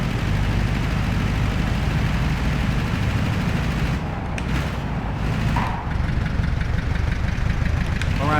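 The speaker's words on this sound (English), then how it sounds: "This is, I think, what an air-cooled Volkswagen engine sounds like." Air-cooled Volkswagen flat-four engine in the racing game Gran Turismo 5, a steady loud rumbling drone that runs throughout with a few brief sharp pops and dips in the middle.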